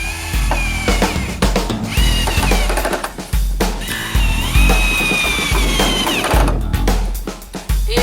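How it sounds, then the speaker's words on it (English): Power drill driving screws into a workbench board, with dense whirring bursts and tonal whines, stops and restarts, and clattering handling noises throughout. "So I can just line it up on each side and start drilling this in."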